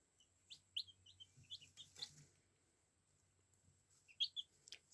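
Young chicks, a mix of lemon cuckoo Orpington and Swedish flower hen, give short high chirps in small bursts, some close and some softer, over a quiet background with faint low rumble.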